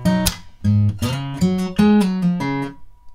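Guitar intro measure from a song lesson, played alone as a short run of bright plucked notes with a slide and a quick triple pull-off, clear and close.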